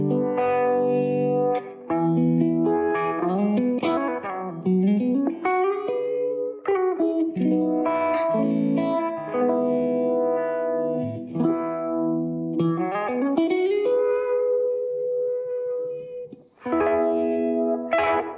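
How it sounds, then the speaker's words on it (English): An electric guitar runs through the Univibe effect on a NUX Trident multi-effects unit, playing melodic phrases and sustained notes with a throbbing, swirling modulation and light distortion, alone without any talk. "I want to check out the Univibe because they can be really hard to emulate in these bigger effects units."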